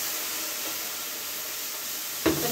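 Steam hisses as hot water is added to a pan of green onions while cooking shrimp and grits, a steady broad hiss through the clip with a brief louder burst of sizzle near the end.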